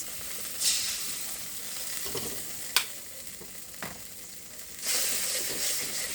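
Soya chilli sizzles in a pan as tomato sauce is added, a soft, steady hiss broken by several sharp bursts of spitting and stirring scrapes, with no voices.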